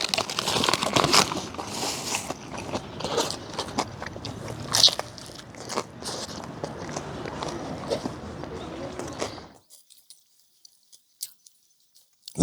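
Crisp, repeated crunching bites and chewing of Japanese fried chicken, close and loud, with crinkly crackles for about nine seconds before falling silent.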